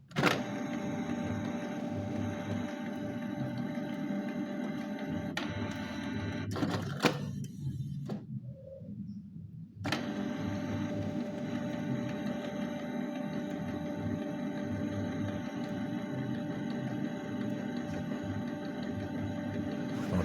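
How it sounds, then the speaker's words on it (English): Canon PIXMA G4411 ink tank printer running during first-time setup, a steady mechanical hum and whir that pauses briefly for a few seconds midway, then resumes at the same level. "that's basically it to set up the printer for it to be ready to print and copy"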